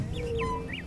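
A duck calling on a lake, a few short faint quacks over low background noise, heard alone.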